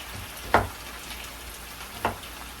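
Chicken meat frying in a pan for chicken choila, a steady close sizzle throughout with two brief louder clatters of stirring, no talking.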